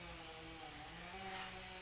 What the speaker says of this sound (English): Stupid chainsaw going on in the background.